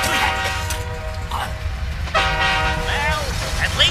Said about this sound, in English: We know it's just an actual train!